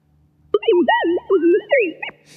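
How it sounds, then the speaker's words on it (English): Sine wave speech auditory illusion plays from a presentation, a few seconds of gliding whistle-like tones that trace the rhythm of a spoken phrase, loud and clear in a quiet room. "Sine wave speech sounds like this."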